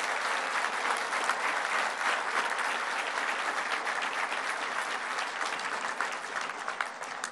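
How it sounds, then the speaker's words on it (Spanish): Applause from a large audience at the inauguration of the Gran Museo de Chichén Itzá in Mexico, a loud, sustained and even roar of clapping with no pauses. "Un fuerte aplauso para todos ustedes."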